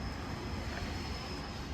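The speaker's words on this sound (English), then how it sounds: "But yeah, it's a big old train coming right through." A big cargo train rolls through downtown Seattle near the waterfront, a steady broadband rumble and rush heard from nearby without pause, fairly loud and with no voices.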